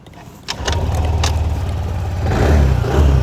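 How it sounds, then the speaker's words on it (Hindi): A 2022 TVS Jupiter 125 scooter starts with a quick crank and catches about half a second in. It settles into a steady idle nearby, then the engine note rises slightly. "मैं इसको स्टार्ट करके आप लोगों को दिखा देता हूँ"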